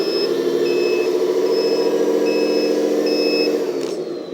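Repeated reversing beeps sound from a 1/14 LXY 8x8 hydraulic roll-off RC dump truck, a steady series of evenly spaced electronic tones over a constant loud motor whine that fades near the end.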